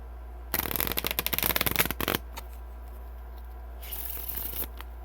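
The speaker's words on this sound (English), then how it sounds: "I'm gonna take a quick riffle shuffle for this." Hoyle or Maverick playing cards riffle-shuffled in a rapid flurry of crisp flutters, followed by quiet and a softer second shuffle near the end.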